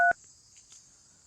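A telephone number is dialed: one short, loud keypad tone opens, then a faint, steady high hum carries on with no talking.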